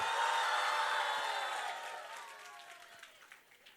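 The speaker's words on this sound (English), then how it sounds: "Shout, clap, make noise." High school students in a storytelling audience shout and clap together, a loud sustained burst of voices and clapping that gradually fades away.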